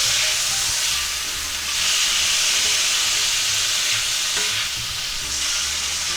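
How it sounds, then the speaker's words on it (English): Cabbage, sausage, peppers and onions being stirred in a hot pan: a continuous loud sizzle with scraping and shuffling of the utensil through the food, steady throughout with no talking. "Give them a quick stir."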